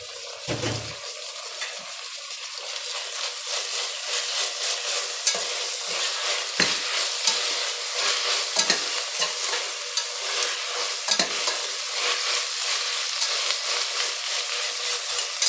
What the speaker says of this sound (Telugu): ఇప్పుడు కొంచెం సేపు వేయించుకుందాం, ఆ పచ్చి వాసన పోయే వరకు.